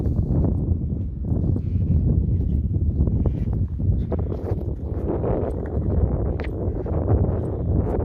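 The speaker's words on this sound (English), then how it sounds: "In this wind." Strong gusting wind on a sunny outdoor walk buffets the microphone in a loud, low rumble that surges and eases without a break, with faint rustling underneath.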